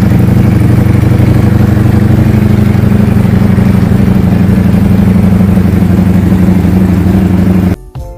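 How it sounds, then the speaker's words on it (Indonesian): A 2018 Ducati Panigale V4 motorcycle engine runs steadily and loudly at a constant idle-like drone, cutting off abruptly near the end. "jadi ini adalah motor Italia ya guys ya, yaitu Ducati Panigale V4"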